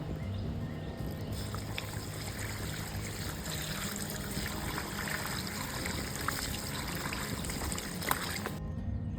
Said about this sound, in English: now I can just dump off that water and let the sediment dry out